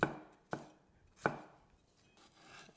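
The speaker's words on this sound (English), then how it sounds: "But with the onion, just sort of large chunks should do." An onion is chopped into large chunks for a black pepper chicken stir-fry: three sharp, close knife chops land at an uneven pace, each a crisp thud against the board, with quiet pauses between.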